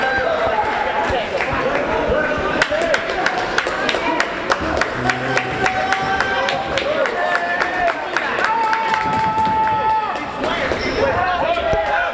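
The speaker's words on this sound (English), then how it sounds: "Not only has it been a big crowd, but it's been very vocal on both sides." A big, vocal crowd fills a high school boys' varsity basketball game, Saugus against Peabody, with steady chatter and shouting, sneaker squeaks and sharp ball bounces, while a commentator talks over it.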